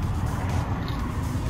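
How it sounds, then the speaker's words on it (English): A Daihatsu Kei delivery van's 3-cylinder overhead-valve turbo engine idles in a car shop, a steady, low, rumbling drone heard up close without speech. "What you're looking at is a 3-cylinder turbo engine with a 5-speed manual transmission."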